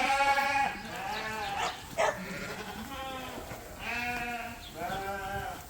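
Several sheep bleat close by on shearing day in repeated wavering cries, overlapping one another, with a short rustle between calls.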